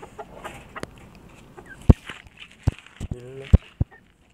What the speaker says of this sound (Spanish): Gallito.